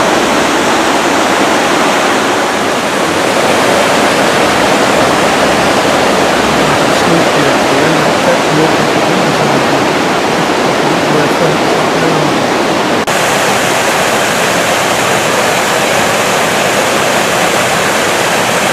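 Water rushes steadily through a sluice gate on a canal at Caldervale, a loud, continuous broadband roar like a small waterfall, unbroken for the whole stretch with no voices heard.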